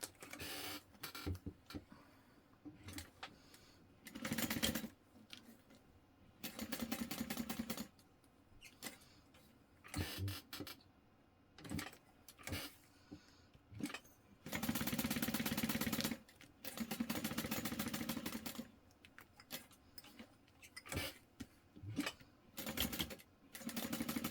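A sewing machine stitches fabric and clear vinyl for a notepad cover, whirring in short close bursts and longer steady runs separated by pauses, with small clicks and handling noise between stitches.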